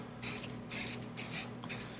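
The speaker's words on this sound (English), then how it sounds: "then when I spray this on" Spray paint is sprayed onto the wheels of a 1971 GMC in four evenly spaced hissing bursts of about half a second each, close and loud over a faint background hum.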